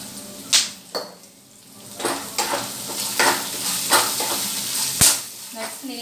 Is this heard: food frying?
yes